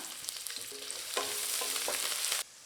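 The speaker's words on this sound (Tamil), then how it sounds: "இதையும் சேர்த்து நல்லா வதக்கி விட்டுக்கலாம்" Onions sizzle steadily in oil in a pan as they fry, with soft scraping and stirring sounds close by and no talking.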